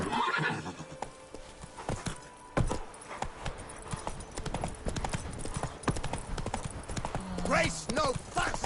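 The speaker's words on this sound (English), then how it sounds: "Master Richard, Giddy up" Horse clip-clopping steadily up close with a neigh near the end, hoofbeats and harness sounds running throughout while people speak over it.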